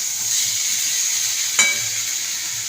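Turmeric, chili and cumin sizzle in hot oil with a steady bright hiss, close and even, broken by one short sharp crackle partway through.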